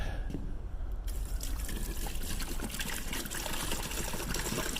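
Water gushes steadily into a septic tank being repaired for a collapsed pipe, a continuous loud splashing and rushing fill that carries on throughout, with no talk.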